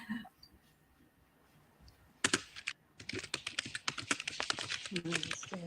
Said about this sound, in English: Hold on, I'm typing.